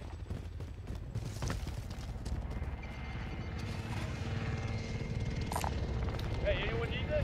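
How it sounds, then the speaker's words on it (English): Enemy supply helicopters hover above the battlefield in a battle royale game, their low, continuous rotor thrum running loud under clattering game effects, impacts and voice chatter. "Enemy supply choppers above."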